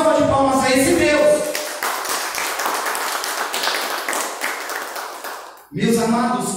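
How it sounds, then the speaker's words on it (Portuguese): A church congregation bursts into sustained hand clapping that swells and holds for about four seconds before fading, with a preacher's voice speaking before and after it. "Uma salva de palmas a esse Deus."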